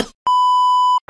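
A mobile phone alarm gives one steady, loud electronic beep lasting under a second, a pure sustained tone that starts and stops sharply, isolated with no voices over it.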